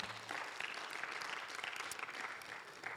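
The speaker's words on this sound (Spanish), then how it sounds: "Denle un fuerte aplauso al Señor" Congregation applauding inside a church during a Spanish-language worship service, a dense, steady clapping that holds at a constant level through the whole stretch with no voices on top.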